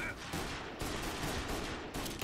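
Rapid pistol gunfire in the video game Mafia Definitive Edition, a dense run of close, loud shots with no talk over it.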